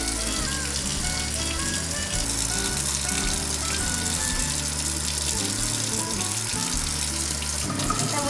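Tap water runs loudly and continuously during a veterinary surgical hand scrub with a sterile scrub brush and scrub solution, a steady close rushing that fills the whole stretch with no talking.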